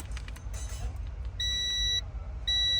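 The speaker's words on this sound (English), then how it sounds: "I'm touching the terminal and it's beeping" A multimeter's continuity tester gives two high, steady electronic beeps, each lasting about half a second, while touching a Hyundai Sonata Hybrid battery safety plug terminal, over a faint low background hum.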